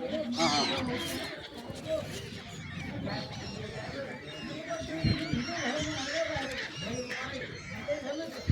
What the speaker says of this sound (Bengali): ত্রিবেণী সঙ্গমে দেখুন পারিজাই পাখি